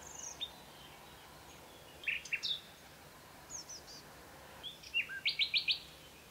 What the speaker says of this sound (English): A nightingale sings its song early in the morning.